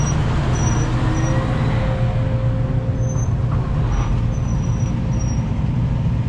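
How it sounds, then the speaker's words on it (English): A loaded dump truck hauling red Georgia clay pulls away from a loading site, its low engine rumble steady and continuous, with faint brake hiss and ambient traffic-like noise and no talking. "There goes truck number 3,"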